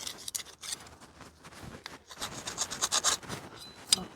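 Wire wheel on a drill scrubbing gasket residue from an Allis Chalmers B tractor water pump mounting face, quiet intermittent rasping bursts that come in short strokes and grow busier toward the end.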